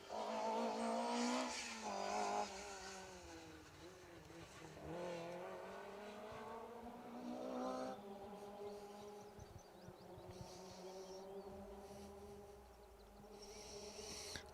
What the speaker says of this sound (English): I can hear a Clio fired up in the distance